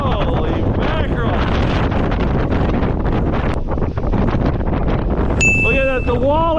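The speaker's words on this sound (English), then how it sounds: "It's got to be gusting 50 miles per hour out here." Strong gusting wind in a snow storm roars continuously into the microphone, loud and buffeting throughout, with a faint ringing tone near the end.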